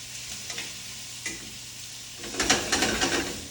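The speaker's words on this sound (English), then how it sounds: "Gonna let those squash and zucchini saute for just a minute." Squash and zucchini sauté in a hot pan, sizzling steadily at a low level, with a few scraping stirs and then a louder burst of spattering frying near the end.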